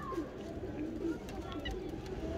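Pigeons coo softly in a bird breeder's loft, the low murmuring calls half-masked by steady background noise and nearby voices talking.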